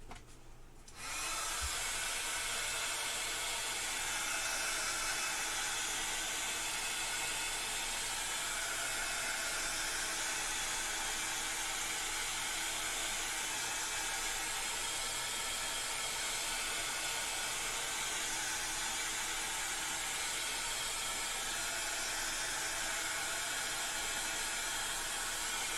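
A hair dryer switches on and runs continuously, drying a paper craft project with a loud, steady, close airy whoosh and motor drone that lasts throughout, with no talk over it.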